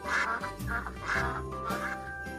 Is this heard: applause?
no